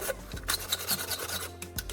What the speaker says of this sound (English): I'm sanding it thoroughly until the paint and protective layers are completely gone